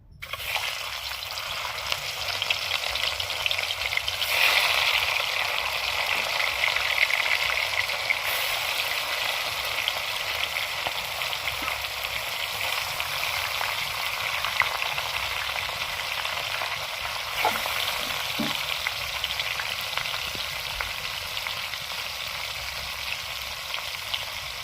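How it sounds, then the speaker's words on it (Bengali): Fish frying in hot oil in a wok, a steady, even sizzle that holds for the whole stretch with occasional small pops and crackles and no talking. "এখন আমরা মাছ দিয়ে দেবো"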